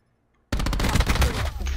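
Gunfire in Black Ops 4 erupts abruptly after a brief silence, a loud burst of rapid shots rattling on for over a second.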